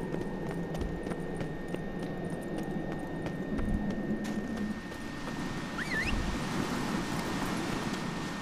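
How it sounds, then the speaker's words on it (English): A horse in The Witcher 3 gallops up through rocky Skellige terrain, rhythmic clip-clop hoofbeats growing closer over a low ambient wind, with a bird call in the middle. "It seems like the ideal place to call a horse."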